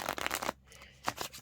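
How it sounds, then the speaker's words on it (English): A deck of playing cards being shuffled by hand, a quick close riffling flutter followed by a brief pause and another short burst of card riffle. "So you can shuffle as much as you like."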